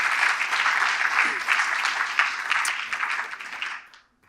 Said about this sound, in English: have a round of applause there